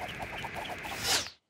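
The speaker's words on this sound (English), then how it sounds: "A duck." A cartoon duck in the Hey Duggee animated series gives a quick run of rhythmic quacks, closing on a louder, brighter cry that cuts off abruptly.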